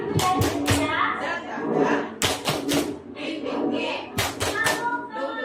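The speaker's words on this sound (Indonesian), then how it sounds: "tepuk semangat" A group claps in short rhythmic bursts of sharp hand claps, separated by pauses filled with talking and children's voices.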